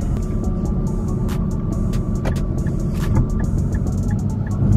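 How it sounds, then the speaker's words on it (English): A 2017 Nissan GT-R R35 Premium Edition accelerates hard from a launch, heard from inside the cabin as a loud, steady engine and road roar with a few sharp clicks and knocks. "Here comes my reaction to a launch in a GTR."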